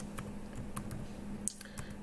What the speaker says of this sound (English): I'm just typing my title of this live stream.